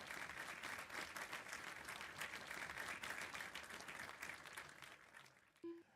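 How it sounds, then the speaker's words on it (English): Crowd applauding after an indoor RC off-road car race, a steady patter of many hands clapping for several seconds before it stops and a brief tone follows. "The crowd goes wild."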